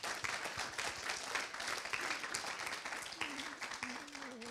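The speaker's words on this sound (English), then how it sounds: "we need to give a round of applause to Lorraine and Steve for this" A church congregation claps at a Sunday service, a quiet, moderately dense round of applause from a distance, with a sustained tone or voice emerging faintly near the end.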